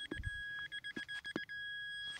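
A metal detecting pinpointer beeps in a fast pulsing run of high electronic tones, close and clear, with rustling and digging thuds at the start, outdoors on a foggy day.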